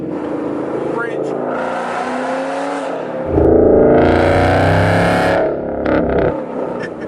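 A 2013 Mustang GT with long tube headers and a 93-octane retune accelerates hard, its engine note rising to a loud, raspy roar inside the car, then easing off, with a voice talking over it.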